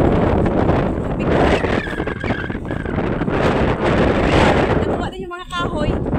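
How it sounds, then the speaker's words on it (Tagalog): Strong cold winter wind roars steadily into the microphone, buffeting throughout, with people talking underneath the gusts. "Grabe pa yung hangin, no?"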